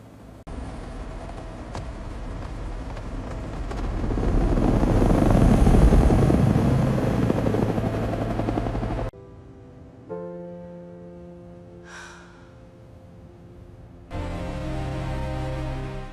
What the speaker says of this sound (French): À qui est cet hélicoptère?